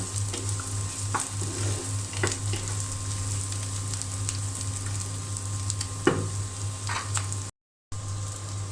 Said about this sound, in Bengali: এখন আমি সবগুলো ভালো করে ভেজে নেব সুন্দর করে ভেজে নেব